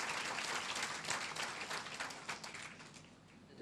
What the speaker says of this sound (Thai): ขอเสียงปรบมือให้กับเพื่อนๆ ของผมด้วยนะครับ